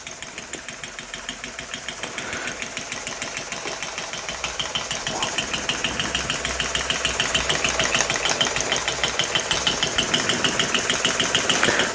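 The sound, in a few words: Elektro model steam engine running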